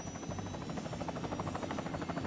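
Helicopter in the video game Hitman 2, a steady whirring rotor drone with a rhythmic chop, filling the whole moment at a moderate level with no talk.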